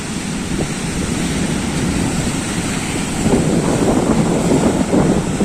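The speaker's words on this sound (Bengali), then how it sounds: "দেখো ঢেউগুলো কত দূর থেকে বড় বড় ঢেউগুলো আসতে থাকো" Rough, surging sea waves roll onto the beach at Shankarpur during rain, making a loud continuous roar mixed with heavy wind buffeting the microphone, swelling louder toward the end.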